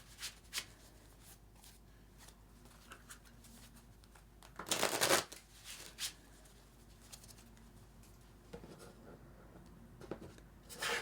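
Tarot cards being shuffled by hand, heard as soft, quiet papery riffles and rubbing with a few louder brushing bursts and no voices.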